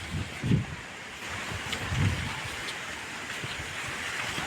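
Strong wind gusts blow across a rain-soaked farm field, a rough rushing roar with heavy microphone buffeting in two bursts, then a steady blustery hiss.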